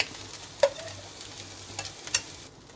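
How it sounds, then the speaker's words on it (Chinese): Rice and ham being stir-fried together in a pan, heard as a soft steady sizzle with a few sharp scraping clinks of a spatula, close by and without talk. "然后我要放这个饭进去里面炒， 然后我要放这个 ham 下去一起炒"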